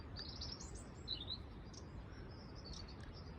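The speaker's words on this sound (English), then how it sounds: "Carrion crow and magpie." Carrion crows and magpies calling at a feeding spot on a cliff top in late October, faint and somewhat distant over steady wind-like background noise, with a few brief high chirping calls.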